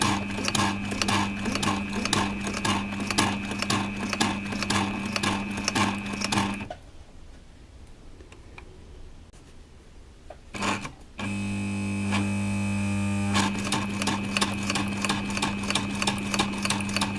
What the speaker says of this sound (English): So you can see that the machine has been able to go through this thicker leather.